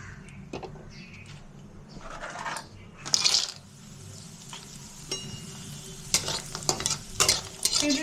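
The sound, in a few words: frying lentil dumplings (bori) in oil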